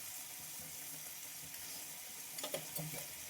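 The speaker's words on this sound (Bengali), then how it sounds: "দিয়ে মশলাটাকে একটু মিডিয়াম আঁচে আমি কষিয়ে নেব।" Ginger, cumin paste and turmeric fry over medium heat in a pan, a soft continuous sizzle with a few stirring scrapes and clinks near the end, fairly quiet and without talk.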